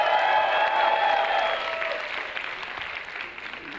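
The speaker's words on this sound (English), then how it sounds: "let's give a huge round of applause for Roger Dickey!" Loud audience applause welcomes a speaker to the stage at a talk, strongest at first and thinning gradually, with cheering and crowd voices mixed into the clapping.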